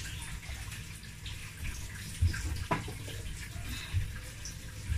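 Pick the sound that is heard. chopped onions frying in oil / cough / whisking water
whisking water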